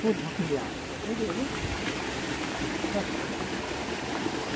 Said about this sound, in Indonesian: kita udah berada di atas air terjun Kakek Bodo